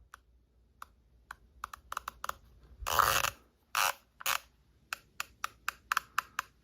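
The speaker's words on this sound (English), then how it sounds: "how tactile and audible these clicks are" Windage turret on a Discovery Opt HD Gen II 5-30x56 rifle scope being turned, giving a series of crisp, close, quiet clicks, first sparse and then in an even rhythm, with a brief rustle of handling partway through.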